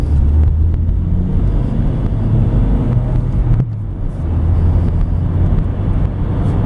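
A 2003 Honda Accord EX with a 5-speed manual driving on a road while braking, giving a steady, close engine and road rumble with wind noise throughout and no talk.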